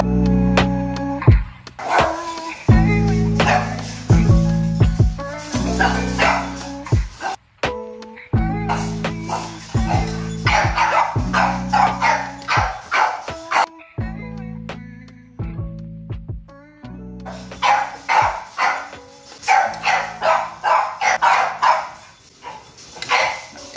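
Several American Bully and French Bulldog dogs and puppies bark repeatedly in a kennel, loud and close, with overlapping barks in bursts and short pauses throughout, no talking.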